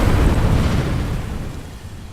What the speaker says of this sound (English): They need to sort those explosions out as well